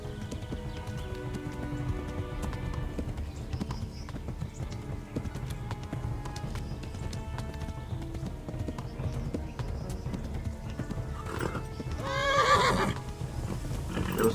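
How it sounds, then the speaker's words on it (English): In the video game Kingdom Come Deliverance, a horse's galloping hooves clip-clop steadily throughout, with a sharp neigh rising near the end over other game sounds. "ya no puedo hacer que galope más"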